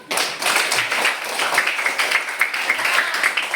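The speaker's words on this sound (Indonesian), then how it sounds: "Tepuk tangan dulu." A class of fourth-grade schoolchildren claps together at the teacher's prompt, a loud, fast burst of many small hands that keeps a rough shared rhythm and carries on steadily for several seconds with no talk over it.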